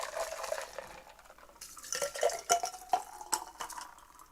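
Coconut water is poured into a cocktail, heard as a faint trickle that turns into louder splashes and drips with a few small clinks of glass, set against a quiet room.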